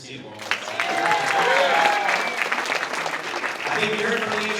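Wedding guests break into warm applause after a speech, a steady crowd of clapping with scattered cheers and voices mixed in, sustained for several seconds.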